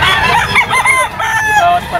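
A straight comb stag rooster of super brown red bloodline at a pet market, crowing loudly and close in a couple of harsh, wavering calls, with clucking and a little background chatter.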